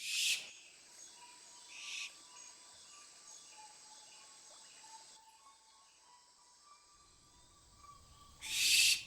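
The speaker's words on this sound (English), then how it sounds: "So the owl that you see here was provided by a very, very lovely guy that I met in Affleck's Palace in Manchester" An owl hoots softly and repeatedly in a quiet, faint outdoor-sounding scene from a short film set in an English autumn or winter, with brief louder noise bursts at the very start and end.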